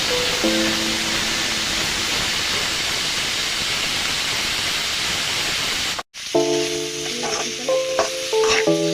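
Sprouts stir-fry in a hot pan, a loud steady hiss of sizzling oil, then after a brief break a close clatter of a utensil stirring and scraping against the pan over the frying.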